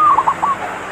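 A local perkutut (zebra dove) of the Katuranggan Korowelang type coos loudly and close by. It gives a short run of rolling, trilled notes that fade into a soft tail, with no voices.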